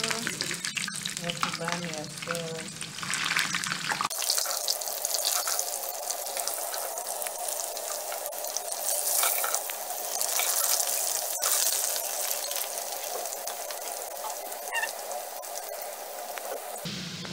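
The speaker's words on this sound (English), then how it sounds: "We'll cook these potatoes until they are golden brown, coming together." Potatoes sizzling steadily in a hot frying pan, a loud close crackling hiss that continues throughout after a short stretch of other kitchen noise.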